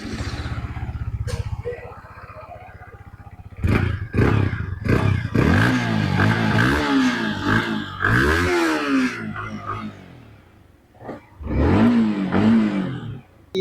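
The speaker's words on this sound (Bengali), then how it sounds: "চলো তোমাদের এখন বাইকের সাউন্ডটা চেক করায় তো চলো আমরা স্টার্ট দিয়ে দিই" A Yamaha MT-15 V2.0 motorcycle starts up close by and is revved hard in a series of rising and falling throttle blips, its loud engine roar broken by brief idle dips, after a stretch of quieter noise and possible talk.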